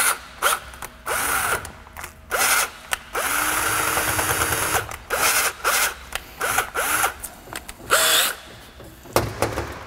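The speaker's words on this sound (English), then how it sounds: "So I am gonna need to drill bigger because I'm not quite lined up over here anymore." A power drill with a keyless chuck bores out a larger hole for differential brake lines on a Ford Fairmont project car, whining in repeated bursts of a second or so, separated by short pauses and one longer continuous run.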